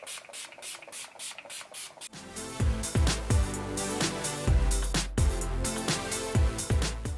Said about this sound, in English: make sure this does not budge with the Skindinavia makeup finishing spray